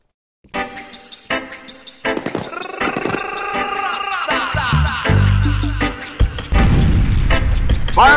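A grenade bursts during a FEAR firefight, a heavy low boom rumbling loudly past the midpoint and swelling again near the end, layered over ringing, harsh combat noise.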